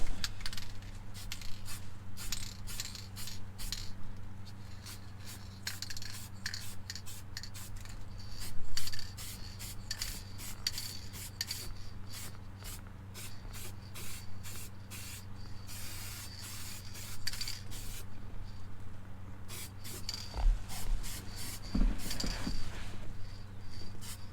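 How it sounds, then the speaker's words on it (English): A 1967 Mustang dash is spray painted with Seymour paint, heard as a close, quiet series of short aerosol bursts in quick rhythm, with pauses and a faint rattle or clink near the end over a low hum. "I'm gonna put a coat on everything that's tough to get to, and then I'll do the top coats on the rest of the dash."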